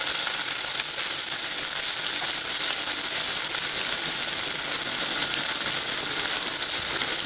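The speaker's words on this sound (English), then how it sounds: "So to this add 1 teaspoon of ginger garlic paste. Sauteing for 2 seconds," Ginger garlic paste sautes in a hot pan, giving a loud, continuous crackling sizzle that stays even throughout, close up and with no talk.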